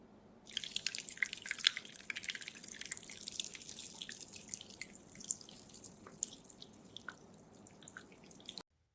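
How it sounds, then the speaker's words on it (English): Generated sound of coffee being poured softly into a cup: a steady trickling, dripping liquid stream, close and clear, running for several seconds before cutting off abruptly, with no voices. "The sound of soft coffee pouring."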